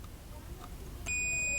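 A multimeter doing a continuity test on an MCR power supply board emits a steady, high electronic tone that starts abruptly after a quiet moment and holds to the end.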